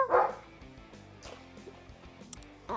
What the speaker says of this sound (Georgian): ჩემი ძაღლია